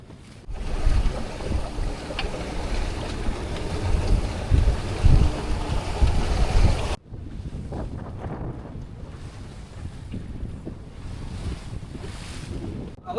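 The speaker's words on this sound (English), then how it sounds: "Got a couple of good gusts coming off the island here." Strong wind gusts coming off Shaw Island buffet a sailboat under front sail, roaring loudly into the microphone for several seconds, then dropping to a steadier, lower rush of wind and water.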